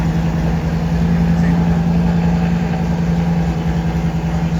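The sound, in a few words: Audi RS car engine running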